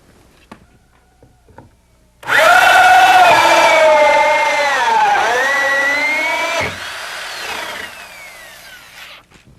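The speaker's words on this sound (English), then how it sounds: "I'm using a 2 1/4 inch hole bit for this 2-inch lower vent pipe" Power drill turning a 2 1/4 inch hole saw bit through wood for a 2-inch vent pipe, a loud, steady grinding whine lasting several seconds that dips in pitch midway, then tapers off as the cut finishes.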